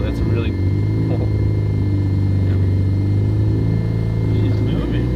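A rotary-engined FC car, just restarted after sitting for 15 years, rolls in reverse with a loud close idling engine rumble, while voices talk excitedly over it.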